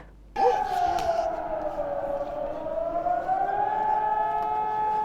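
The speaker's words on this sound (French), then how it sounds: "La sirène d'alerte a retenti dans la ville de Tarnos ce jeudi 21 janvier." A civil defense warning siren in the town of Tarnos, France, starts abruptly and holds a long, steady wail, loud and sustained.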